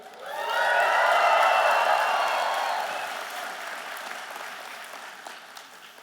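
A university graduation crowd cheers and applauds loudly, swelling quickly, then gradually fading into scattered claps.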